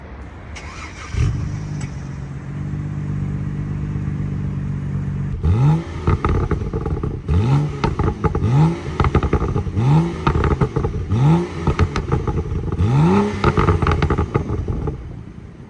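A BMW E92 twin-turbo six-cylinder engine starts and idles, then is revved in six sharp bursts, each rising and falling, loud and close with no talking.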